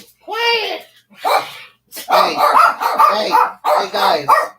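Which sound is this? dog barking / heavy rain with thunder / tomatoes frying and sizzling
dog barking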